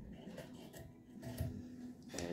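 Dull scissors saw through paracord rope with faint, close rasping snips and rubbing, several short scraping cuts in quick succession, quiet and without speech.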